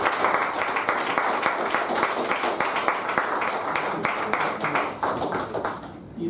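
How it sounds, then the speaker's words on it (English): Small Toastmasters club audience clapping at the end of a meeting to honor the best evaluator, a steady patter of many hands, fairly close and continuous, tapering off near the end. "Applause."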